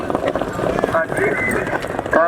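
Horses galloping at a tent pegging show in Gujrat, rapid hoofbeats drumming continuously under someone speaking on a loudspeaker, with brief whinny-like tones mixed in.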